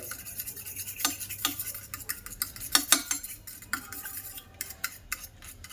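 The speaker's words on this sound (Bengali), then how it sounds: "এবার আমি একটা ডিম ফেটিয়ে নেব।" An egg is beaten in a bowl with quick irregular utensil taps and scrapes, close and fairly soft, with no talk.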